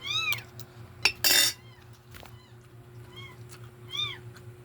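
Kitten meowing while eating from a plate, several short rising-falling meows spread across the clip, close, over a low steady hum with a brief clatter of dishes.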